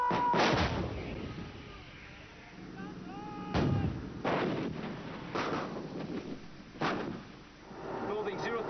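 British and American artillery barrage pounding Iraqi front lines, heavy booms recurring irregularly over a constant roar of wind and rumble, with a voice talking over it.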